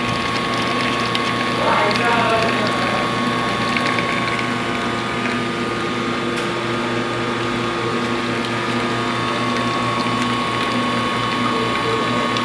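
A loud, steady mechanical whir and pumping drone from an espresso machine brewing a double shot runs throughout, with a faint voice briefly audible early on.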